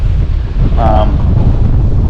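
Steady wind roars across an open lake during bass fishing practice, a loud continuous low rumble buffeting the microphone throughout, with a brief faint tonal whine midway.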